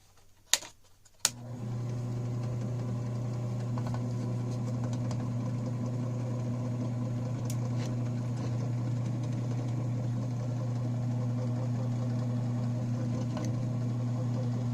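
A drill starts with a couple of sharp clicks, then settles into a steady, loud whine and hum as it bores through a thick steel plate of a 20-gauge black powder side-by-side shotgun's trigger guard.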